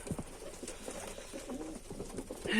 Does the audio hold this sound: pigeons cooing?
yes